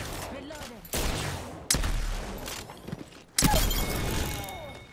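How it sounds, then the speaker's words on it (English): Gunfire in Apex Legends solo versus squads: loud bursts of automatic weapons fire that start abruptly and keep going, mixed with mechanical clicks and a voice speaking. "Listen up, I'm getting shot at."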